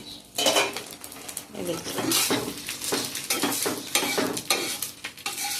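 Frying and stirring in a pan while cooking thondekai kadle gasi, a crackling sizzle broken by repeated scraping strokes and light clinks of a utensil against the pan, close and steady.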